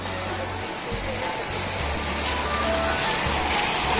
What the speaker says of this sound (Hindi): और ये दूसरा वाटर शो है, दूसरा वाटरफॉल है